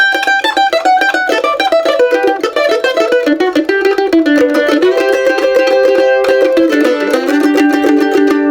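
A bright, quick bluegrass mandolin lick picked in rapid single notes over steady strummed chords, loud and up close.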